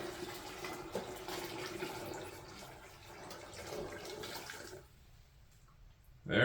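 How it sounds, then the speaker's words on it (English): Liquid pours steadily into a container for several seconds, a soft trickling splash that stops abruptly, followed by near silence, while cleaning beeswax. "We're just going to pour this in here."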